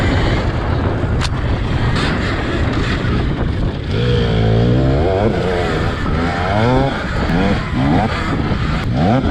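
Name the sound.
dirt bike motorcycles racing on course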